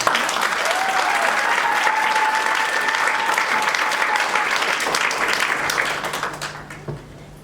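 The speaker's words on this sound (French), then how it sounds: "Applaudissez pour eux." Guests at a French wedding ceremony applaud the couple in a loud, sustained round of clapping that runs several seconds before tapering off near the end.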